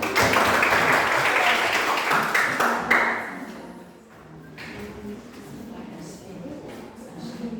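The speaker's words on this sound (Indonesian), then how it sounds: "Tepuk tangan untuk kelompok 1." Applause from a classroom of students greeting a presenting group: dense clapping fills the first three seconds, then thins into scattered claps and murmuring voices.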